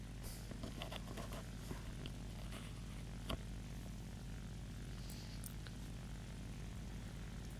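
A J2M2 Raiden fighter's propeller engine idles steadily before takeoff in War Thunder, a constant low drone with a few faint clicks over it.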